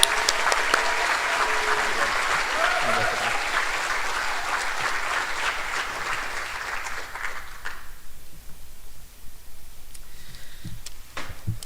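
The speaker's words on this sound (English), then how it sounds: "So one more round of applause for these outstanding students." An audience at a school band concert for 5th to 12th grade students applauds, dense steady clapping for about eight seconds that then trails off into a few scattered claps and quiet.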